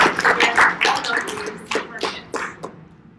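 A small audience at a health seminar bootcamp gives scattered applause: a brief flurry of claps that thins into a few separate, close hand claps and fades out.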